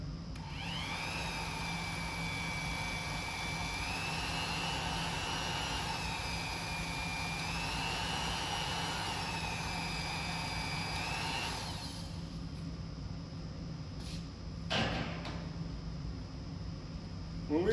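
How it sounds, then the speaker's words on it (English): A blow dryer runs steadily at close range for about twelve seconds with a rising and falling whine, then shuts off, leaving a quiet room with a few faint knocks. "Now this is my super duper blow dryer"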